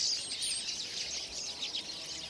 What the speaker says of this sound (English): Birds chirping together can create quite a racket, like these chirping in a spruce tree.